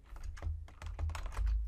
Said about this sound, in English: start typing, I'm just going to hold down my A key so I can demonstrate content here